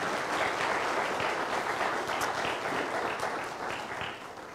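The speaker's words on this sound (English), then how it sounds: "You can clap for them." A church congregation claps during a Sunday worship service: dense, sustained applause from a crowd in a hall, steady throughout and tapering slightly at the end.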